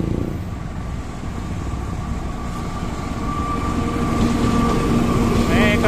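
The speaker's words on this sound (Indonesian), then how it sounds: "Ada kereta jarak jauh lagi, guys." A CC 206 locomotive hauls a long-distance passenger train bound for Jakarta past the listener: a close, loud, steady rumble of rolling wheels and carriages that swells slightly toward the end.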